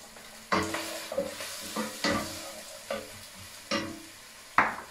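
Onion and garlic fry in a pan for Hungarian goulash, a low sizzle broken by about seven distinct scraping stirs of a utensil against the pan, each a sharp close scrape at an irregular pace.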